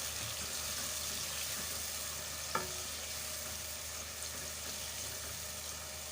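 Onions and tomato fry in a pan for a Pakistani pumpkin halwa kaddu, giving a steady, even sizzle throughout with one brief clink partway through and no talking.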